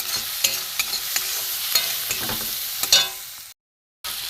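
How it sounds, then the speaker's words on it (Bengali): Ground ginger, coriander, cumin, chilli and turmeric fry together in a pan for a prawn kebab curry, a bright continuous sizzle broken by sharp rhythmic stirring scrapes, then a brief full silence before the frying resumes. "এটা আমি একসাথে সবকটা ঢেলে দেবো। একটু কষবো"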